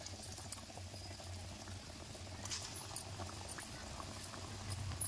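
Moong dal vadas fry in hot oil as a faint, steady bubbling crackle with a few soft pops, quiet and unaccompanied by speech.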